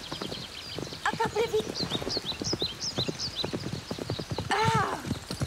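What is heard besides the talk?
horse galloping and neighing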